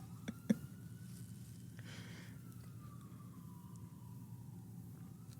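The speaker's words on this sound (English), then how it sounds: "I was waiting for the siren to go away." An emergency vehicle siren wails outside, faint and distant, slowly falling in pitch behind a low indoor hum, with a couple of short knocks near the start.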